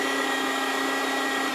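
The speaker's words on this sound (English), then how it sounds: "So I will continue to grind my meat here" An electric meat grinder mincing meat for Nuremberg bratwurst sausage, with a steady, loud motor whine and hum that holds an even pitch for the whole short stretch. No talking.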